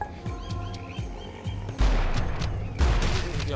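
A gun fires in the video game Dead Island Epidemic, starting with lighter rhythmic shots over game sounds and moving into two loud, heavy bursts of fire close up.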